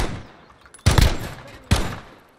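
A 12 gauge shotgun fires twice in the video game Modern Warfare, each blast loud and booming with a short decaying tail, spaced under a second apart.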